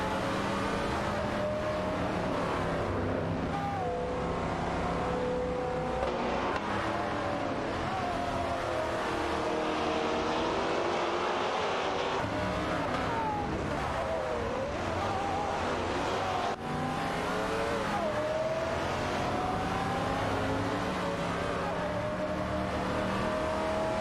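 Race cars in a racing video game, including an Oldsmobile 442, roar and rev steadily around the track, engines droning and shifting pitch as closely matched pairs run nose to tail, loud and continuous throughout.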